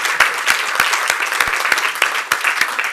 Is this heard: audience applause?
yes